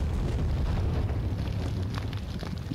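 Explosion in a video game, a loud sustained low rumbling blast that fills the whole clip with a dense roar and slowly fades, with no talk over it.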